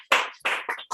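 A small audience clapping for a speaker at a talk, three or four loose bursts of hand claps close by, uneven and separated by brief quiet gaps.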